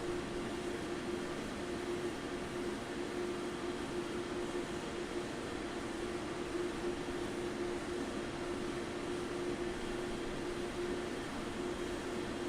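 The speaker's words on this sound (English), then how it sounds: "Screaming engines." A Learjet 35A's jet engines roar in Microsoft Flight Simulator 2020, a steady, unbroken whine and rumble holding at constant loudness throughout, with a strong sustained tone and no talk.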